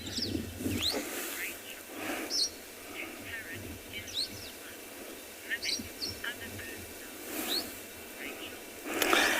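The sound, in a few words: birds calling to each other in a bush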